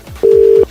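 A telephone gives a single steady electronic tone when dialing a call, a short clean beep lasting under half a second, close and loud against faint background murmur.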